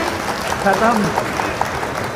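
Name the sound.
audience applause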